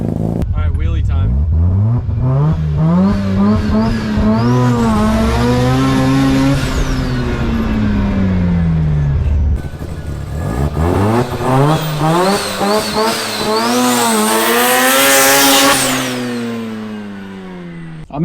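Rotary-engined Datsun car revving hard and launching twice for a wheelie attempt, its loud, high-pitched engine note sweeping up through the revs, dropping, then climbing again close by.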